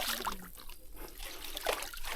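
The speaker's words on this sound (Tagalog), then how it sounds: "Palabas dito yung tubig" Water flowing out and trickling, a soft close dribble with small splashes over about two seconds, no talking.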